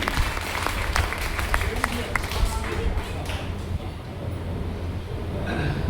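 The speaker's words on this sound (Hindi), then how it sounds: "एक बार इसको आशीर्वाद के लिए तालियां" Audience applause at a Hindi poetry gathering (kavi sammelan) in Kalyanpur, Kanpur: steady crowd clapping over a constant low hum, with a voice speaking through it.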